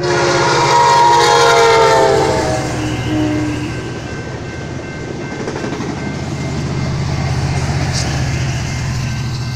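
An Amtrak Talgo train hauled by an F59PHI locomotive from Amtrak California rolls past at close range, a loud, steady rumble with a brief tonal horn-like note early on and a sustained roar that slowly eases.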